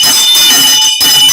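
A bell rings continuously and loudly with a bright, shrill, sustained tone, briefly cutting out before resuming, with no voices heard.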